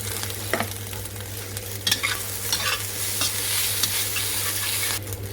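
Rice stir-fried in a pan with ikan bilis anchovies and green peas for nasi goreng kampung: continuous close sizzling broken by repeated spatula scrapes and clanks against the pan.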